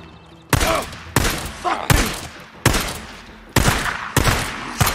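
Heavy bursts of video game gunfire come in repeated loud, sharp volleys with brief gaps between them, each burst tailing off quickly.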